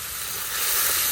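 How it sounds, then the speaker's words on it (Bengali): Spice masala with onions and chillies frying in a pan, turmeric, chilli and coriander powder, salt, ginger and cumin paste mixed in, gives a steady close sizzle and hiss that swells slightly toward the end, with no talking. "মশলাটাকে ভালোভাবে কষে নিই মশলা কষানো হইতে থাক"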